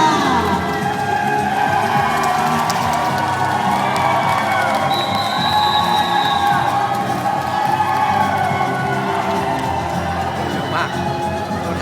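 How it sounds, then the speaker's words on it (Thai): A large crowd cheers and claps along a university sports-games parade route, a continuous dense roar of voices and applause with a loudspeaker announcer talking over it. "ขอเสียงปรบมือดังๆให้กับขบวนเพของเราด้วยค่ะ"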